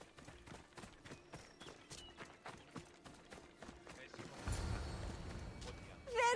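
Horse galloping in Assassin's Creed Odyssey, rapid rhythmic hoofbeats pounding steadily, then a swell of rushing movement and a brief sharp call at the end.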